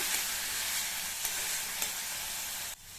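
Onions sautéing and being stirred in a pan for South Indian kaara kuzhambu, a steady close sizzle with a few stirring clicks, cutting off abruptly near the end.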